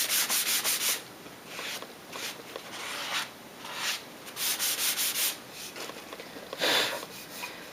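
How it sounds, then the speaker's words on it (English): Light hand sanding along the edges and bottom of a wooden edge-lit clock base: a series of soft, close rasping strokes in irregular bursts with short pauses between, no voices. "just another light sand on the bottom"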